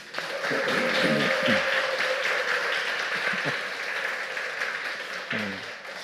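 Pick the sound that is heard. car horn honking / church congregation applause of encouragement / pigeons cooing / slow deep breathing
church congregation applause of encouragement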